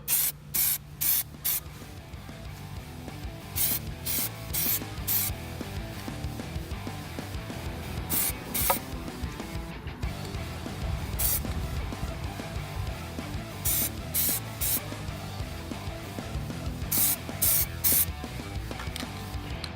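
Aerosol cans of Plasti Dip hiss in repeated short bursts while being sprayed onto BMW M6 wheel rims, with the close, steady spray pulses separated by brief pauses.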